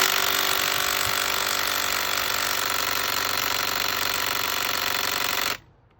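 A Dewalt 20V impact driver hammers continuously and loudly for several seconds, a dense rapid rattle that cuts off abruptly into near silence.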